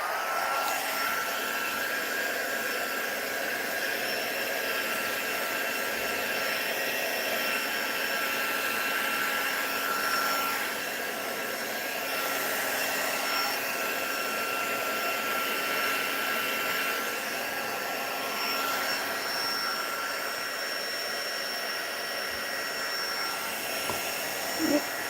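A heat tool blows steadily to dry alcohol inks on tiles, a constant whirring hiss that stays near and unchanging throughout with no talking.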